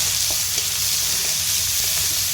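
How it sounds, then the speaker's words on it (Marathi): Onion and chilli fry in a pan for vegetable noodles with a loud, even, continuous sizzle, and a few faint stirring taps sound beneath it. "आपण मस्त कांदा परतून घ्यायचा"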